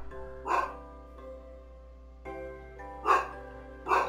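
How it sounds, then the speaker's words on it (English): A horse in a video game barking like a dog, three short barks against a steady musical background hum, the first alone and the last two close together, fairly loud with no talk. "And sometimes the horse barks"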